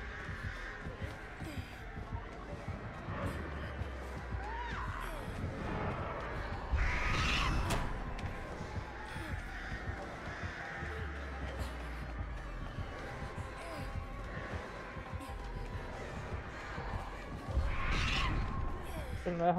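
Crows caw in the horror game Dead by Daylight, several calls rising over a busy, dense game soundscape with players talking throughout.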